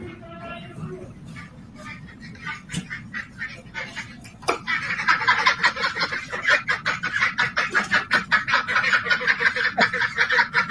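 Ducks riding in the back of a pickup truck, quacking in a rapid rhythmic chorus that grows louder and denser partway through, with passing road noise and talk underneath.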